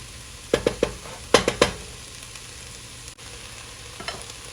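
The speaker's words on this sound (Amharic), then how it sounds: "ሽንኩርቱ ትንሽ ለስለስ እስከሚል ጥብስ እናደርገዋለን" Onions fry in a pan under a soft background sizzle, broken by two quick bursts of three sharp scraping stirs and a fainter stir near the end.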